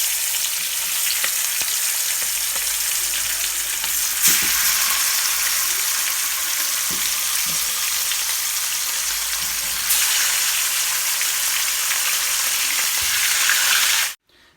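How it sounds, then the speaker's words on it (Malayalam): Fish pan-frying in a pan for a Kerala fish molly, a steady close sizzle and crackle of hot oil running for about fourteen seconds with a few soft stirring knocks, no talking, cutting off abruptly at the end. "അപ്പോൾ ഒന്ന് 2 പുറം മറിച്ചിട്ട് നമുക്കൊന്ന് പാൻ ഫ്രൈ ചെയ്തെടുക്കാം."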